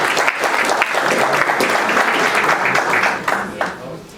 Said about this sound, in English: I think we can applaud that.